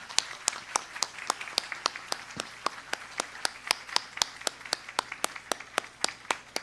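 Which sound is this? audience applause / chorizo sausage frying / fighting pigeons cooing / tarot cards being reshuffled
audience applause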